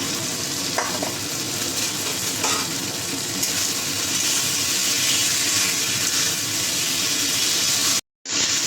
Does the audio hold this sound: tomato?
yes